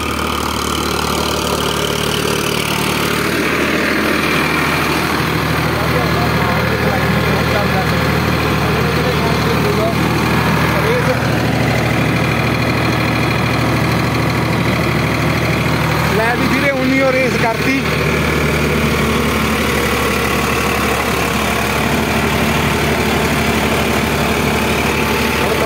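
A 55 hp Farmtrac 60 tractor engine runs at a set throttle, a loud, steady drone that holds its pitch throughout, with people talking nearby under the running engine.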